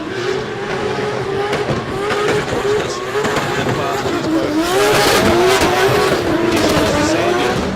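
A drift car on a qualifying run at Baypark Stadium in Tauranga, engine revving hard and wavering up and down with tire squeal and a loud, close, sustained roar, while a commentator talks over it.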